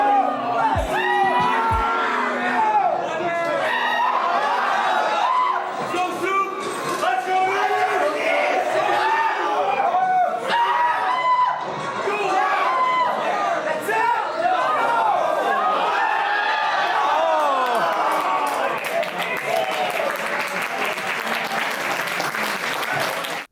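Friends cheer on an SD Falcon player during a Game 5 set at a Super Smash Bros. Melee tournament, with continuous crowd applause, whoops and excited chatter filling the whole stretch.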